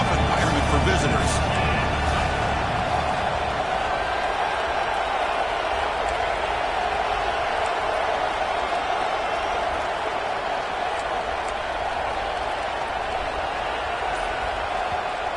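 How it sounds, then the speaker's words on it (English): At an NCAA football game, a large stadium crowd gives a dense, steady roar of cheering that fills the space and is loudest at the start, under continuous commentary. "Listen to the crowd energy here in the early going."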